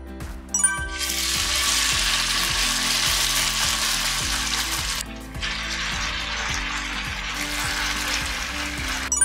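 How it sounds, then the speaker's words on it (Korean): Cooking oil hits a heated pan over low heat for a potato pan pizza, giving a bright, continuous sizzle that briefly dips and then swells again, with small metallic ticks underneath. "자, 이렇게 달궈진 팬에 기름을 쏟으시면 됩니다"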